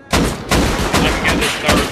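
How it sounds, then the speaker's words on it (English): Rocket launched at a turret during an online raid in a vanilla survival game: a string of loud, close thumping blasts and booms, roughly five heavy impacts in quick succession, with no talking. "I'm gonna shoot a rocket down there just to get rid of that turret"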